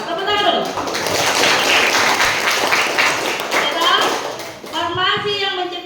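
Students in a school hall at a junior high outreach session clap together, a loud, dense wash of applause filling most of the clip before fading as voices, including children's, talk over its end.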